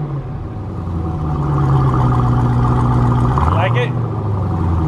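A Corvette engine on a showroom floor idles with a steady low rumble that swells slightly, then dips and rises again near the end, loud and close, with faint talk underneath.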